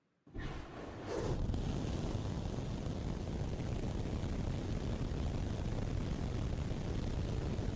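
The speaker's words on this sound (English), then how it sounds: "There they are, ripping in real time. These engines manufactured in Hawthorne, California, tested at our site up in McGregor." SpaceX Raptor 3 rocket engines, built in Hawthorne, California, fire on a test stand at McGregor with a sudden onset that builds into a continuous, loud, broadband roar that holds steady throughout.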